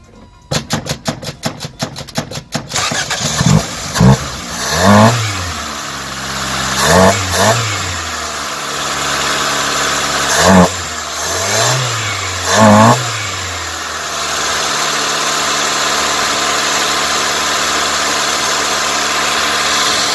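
A Toyota AE82 Corolla engine with a newly fitted carburetor cranks with rapid starter chatter, catches, and is blipped in several loud revs before settling into a steady idle.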